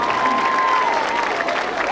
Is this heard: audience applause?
yes